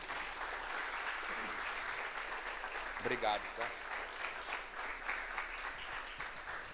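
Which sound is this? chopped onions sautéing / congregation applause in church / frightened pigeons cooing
congregation applause in church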